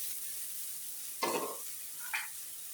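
Freshly cut dima greens drop into a pan of small fried potatoes, setting off a steady sizzle with two sharp bursts of crackling hiss as the leaves hit the hot oil.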